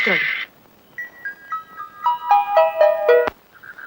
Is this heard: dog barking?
no